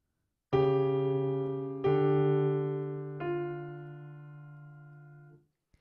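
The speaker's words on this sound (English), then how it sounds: "The 4-3 suspension sounds like this." Three sustained chords sound in succession as a 4-3 suspension, the harmony shifting and settling on the final resolving chord, which rings and fades out.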